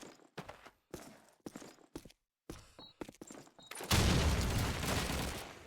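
Call of Duty 2 match: scattered single gunshots and short bursts crack through the first few seconds with brief gaps, then a dense, loud wash of sustained gunfire and noise takes over near the end.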